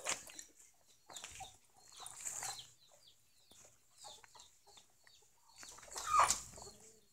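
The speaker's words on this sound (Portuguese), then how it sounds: "Pega esse frango que tá aqui, ó." Chickens cluck and squawk in a farmyard coop, in scattered bursts that are sometimes close and sometimes farther off, with one louder squawk near the end and no talking.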